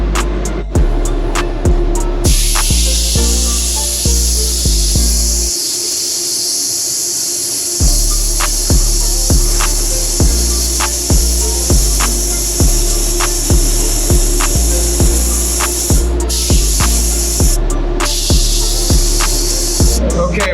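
A spray gun lays base coat paint onto a car door in a repeated pattern of short, loud hissing bursts with a rhythmic stop-start pulse and a brief pause partway through.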